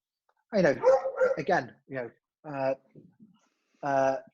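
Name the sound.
dogs barking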